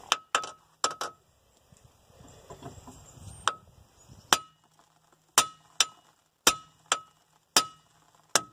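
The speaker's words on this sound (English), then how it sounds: "I'm going to whack on it a couple licks" A hammer strikes a tie-rod end on a Pontiac Grand Prix GT in sharp metallic clinks, several quick blows early on and then a steady series of evenly spaced hits, loud and close.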